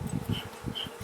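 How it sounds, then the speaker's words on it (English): Honey bees buzz close by in a pretty full hive box, a dense low hum with pulsing swells and occasional higher whines of individual bees passing. "this is a pretty full box of bees"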